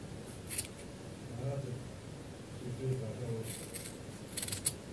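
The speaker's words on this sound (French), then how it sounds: "On va venir découper ici pour faire un pompon." Scissors snip through material to make a pompom, giving a few small, crisp cuts, faint and close, while someone talks quietly in French.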